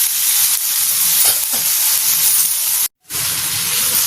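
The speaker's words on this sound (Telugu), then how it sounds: "ముక్కలన్నీ ఇలా కలుపుకోండి మధ్య మధ్యలో." Cucumber pieces cook in a pan for a chutney, giving a loud, close, steady sizzle with stirring scrapes, broken by a brief silent gap before the hiss resumes.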